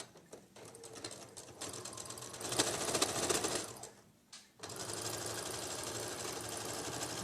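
A sewing machine runs steadily, stitching a patchwork seam on a quilt block, with a brief pause near the middle before the continuous motor whir and needle rattle resume, close and unaccompanied by talk.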